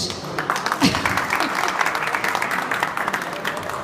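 Clapping from a crowd at a Fiat dealership vehicle launch and prize draw in Şanlıurfa, a steady moderate patter of applause with a voice speaking over it.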